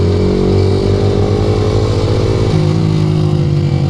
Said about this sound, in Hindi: देखो भाई इतना बाइक को खींच रहा